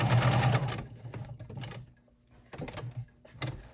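A sewing machine stitches appliqué in short bursts, with a fast, loud mechanical rattle at first, then brief stop-start runs separated by pauses, heard up close.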